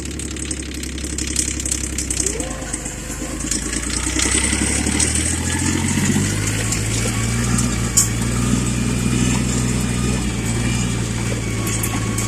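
A tractor engine runs in high gear while working through foot-deep snow, a continuous loud mechanical drone whose pitch shifts and rises as it pulls along, with no voices over it.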